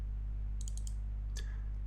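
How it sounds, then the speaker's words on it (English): Computer mouse clicks while working in Proteus circuit design software: a quick cluster of light clicks, then one more single click, faint over a steady low electrical hum. "I'm going to double click on it."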